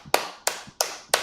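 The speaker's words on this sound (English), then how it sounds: "Give yourselves an applause." A small group of people clap for themselves at a World No Tobacco Day live event, four sharp, evenly spaced claps close by with no talk.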